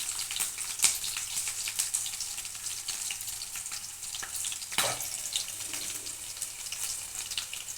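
Green chillies sizzle in a hot pan of oil, giving a steady, moderately quiet frying hiss broken by a few sharper crackles and pops, with no talking.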